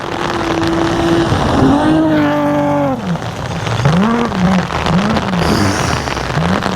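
A rally car at the rain-soaked NEO Rally Žemaitija 2026 roars past nearby, its engine note sliding downward as it goes by, then wavering through gear changes and throttle blips as it pulls away.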